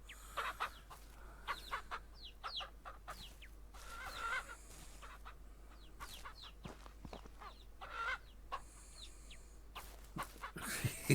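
Chickens cluck repeatedly in the ranch farming video game Ranch Simulator, a flock heard at close to mid range with overlapping short clucks and calls spread over a steady background.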